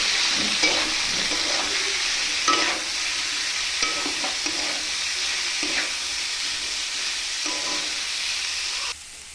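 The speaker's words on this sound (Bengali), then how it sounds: "এখন আমি আলু দিয়ে দিয়েছি, এখন একটু নেড়ে নেবো ভালো করে।" Potatoes fry in hot oil in a pan, sizzling loudly and steadily while a utensil stirs them with repeated scraping and clanking strokes.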